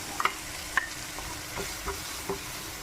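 Soft, constant sizzle of ground roasted spices frying in oil over tomato masala, with a few light scraping stirs of a spoon against the pan.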